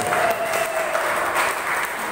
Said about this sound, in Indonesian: Tepuk tangan kepada siapa yang akan berbuat.